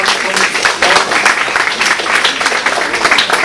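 Audience applause for a guest speaker, a military historian lecturing on the Portuguese colonial war, at a local talk in Vila Fresca de Azeitão; dense, steady clapping fills the room with no pause, loud and close.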